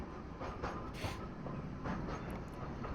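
Train rolling along in the video game Into the Radius, a steady broadband rumble with faint clickety-clack and rail noise, continuous and fairly close, no talking.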